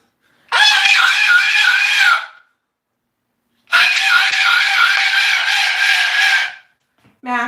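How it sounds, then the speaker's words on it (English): A bird lets out two long, piercing screams, very loud and close, separated by a few seconds of silence, then a brief squawk. "And Max would like to yell in my ear."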